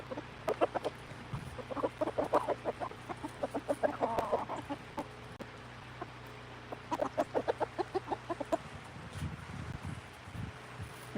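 Chickens cluck in rapid bursts of short, sharp calls, several rhythmic runs close by with brief pauses between, over a light wind rumble and no talk.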